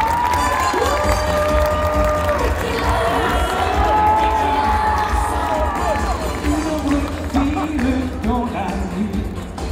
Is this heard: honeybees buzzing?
no